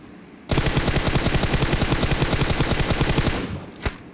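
Automatic gunfire in a multiplayer battle royale shooter, a sustained rapid burst of evenly spaced loud shots lasting about three seconds, then a single later shot.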